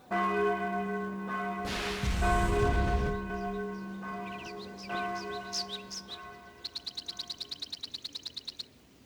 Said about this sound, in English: Hey, Tal, the alarm bells are ringing.